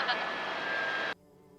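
A tour helicopter over Hawaii whirs with a loud, steady rotor and engine drone from inside the cabin, then the sound drops away sharply to near quiet.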